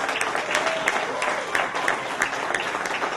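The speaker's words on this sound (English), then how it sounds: "so please give him a big round of applause." Loud, close applause from a concert audience at a summer music jam camp show, many hands clapping in a dense, steady patter with some crowd murmur mixed in.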